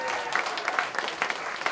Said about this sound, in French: Je pense que ça mérite une main d'applaudissement pour commencer ça en force.